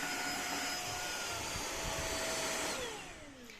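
A Tenco IFLOOR3 vacuum cleaner runs with a steady, whiny motor drone and airflow rush, its pitch sliding down as it winds off near the end, no talk.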